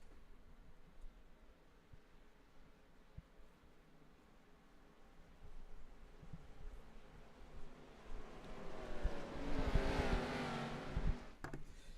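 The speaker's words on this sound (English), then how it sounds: "You're going to hear the power of these engines." Race car engines in the iRacing video game at Daytona, starting as a faint distant drone and swelling into a loud roaring pass near the end before fading slightly.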